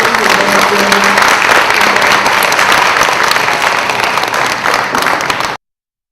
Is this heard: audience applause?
yes